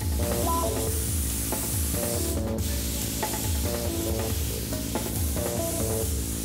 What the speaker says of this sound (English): The chocolate mix is then used to airbrush the eggs with a kind of chocolate primer.